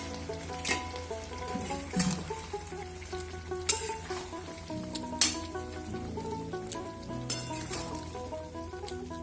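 Soybean pakoras and potatoes fry in a pan, giving a steady close sizzle throughout with a few sharp scrapes and clinks as a spatula stirs them.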